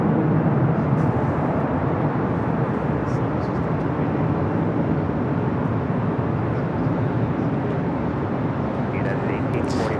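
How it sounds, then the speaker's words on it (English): A British Airways Airbus A380 jet at LAX produces a loud, steady, broad engine roar that fills the whole stretch without a break. "Flight heading to Paris, flight 290. British Airways A380 Super."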